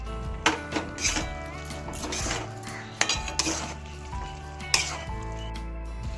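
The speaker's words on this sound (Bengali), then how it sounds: "সমস্ত সবজিগুলো মশলার সাথে আর একটু কষিয়ে নিচ্ছি" Vegetables for shukto sizzle and scrape in a pan with spices as a utensil stirs them, with repeated metallic clinks of the spoon against the pot.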